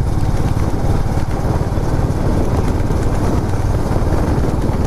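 A motorcycle rides on a highway toll lane on the way to Kolkata, its engine and wind roar loud and steady throughout, with no pauses.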